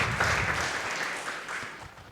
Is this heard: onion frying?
no